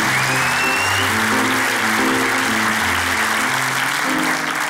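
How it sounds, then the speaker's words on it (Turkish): A studio audience on a Turkish daytime talk show claps loudly and steadily, dense sustained applause filling the whole stretch with a faint whistle near the start. "Alkışlarla gönder yerine."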